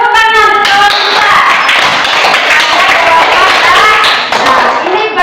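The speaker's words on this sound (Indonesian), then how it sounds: "Tepuk tangan untuk kita." Loud, close group clapping from students in a classroom session, rhythmic and energetic, mixed with voices chanting or singing along throughout.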